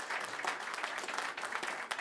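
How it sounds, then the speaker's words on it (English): Applause from an awards ceremony crowd, a steady wash of many hands clapping close and dense for a couple of seconds with no voices over it. "Applause, applause."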